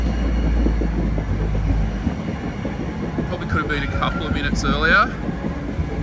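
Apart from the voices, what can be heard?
tram arriving at station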